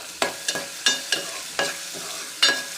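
A spoon stirs ground chili and cumin into onion and garlic frying in a pan, with about seven sharp scraping strokes spaced unevenly over a soft sizzle, close and clear, no voices.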